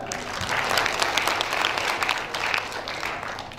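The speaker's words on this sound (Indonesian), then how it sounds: "Kasih aplaus lagi lah." Applause at a university graduation ceremony, a sustained crowd clapping that stays steady and dense throughout, fairly loud and close with no talk over it.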